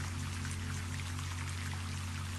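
Steady rain falls continuously, a dense even patter and wash of water with a low steady hum beneath, close and moderately loud with no voices.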